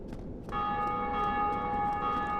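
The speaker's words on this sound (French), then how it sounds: "Ah, la cloche sonne." A bell in Dark Souls Remastered strikes once and rings on with a steady, sustained metallic tone that holds loud and even, with no talking.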